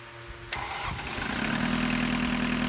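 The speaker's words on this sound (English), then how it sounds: "it does seem the engine started pretty fast this time" A 1985 Volkswagen 1.6L diesel engine cranks briefly and then catches, settling into a steady, rough, clattering idle close by.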